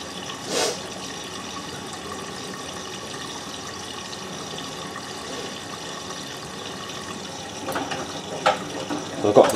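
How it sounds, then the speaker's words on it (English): Miele W562 washing machine filling with water for a high-level rinse, a steady soft rush of inflowing water throughout, with a few brief knocks and clatters near the end. "filling for the second rinse now, which I think is another high level rinse"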